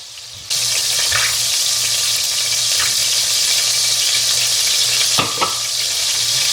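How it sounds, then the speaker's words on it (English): Sausage browning in a frying pan gives a steady sizzle and crackle of hot grease, with a few brief scrapes or stirs and a louder clatter near the end. "My sausage is cooked to my liking, so I'm going to remove it from the pan."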